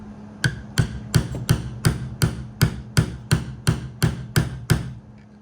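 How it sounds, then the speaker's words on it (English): A hammer taps a grommet setting tool about a dozen times in a steady, even rhythm, each tap sharp and close with a brief ring. "we're gonna start just giving it some light taps with our hammer"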